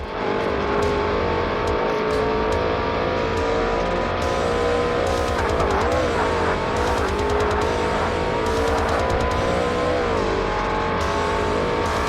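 Race car engines from Forza Motorsport (2005) drone loudly and steadily, with pitch sweeps during shifts and braking, alongside the buzz of nearby cars passing.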